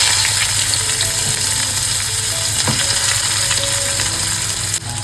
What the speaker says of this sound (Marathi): आता फोडणी द्यायला घेते.